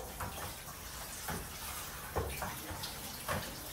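Food being rinsed in water at a kitchen sink while cooking a Moroccan chicken dish: a steady wash of running, sloshing water with a few soft knocks and splashes, close and moderate in level.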